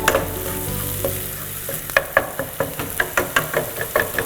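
Onions fry with turmeric and coriander powder for a wedding-style shahi paneer masala. A close, loud sizzle comes first, then quick rhythmic stirring strokes scrape the pan about three times a second, with no voices.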